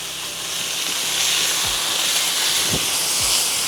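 Steady hissing sizzle of American Wagyu skirt steak cooking on a hot surface, a constant broadband frying hiss with occasional faint pops and thumps underneath, close and moderately loud with no talking.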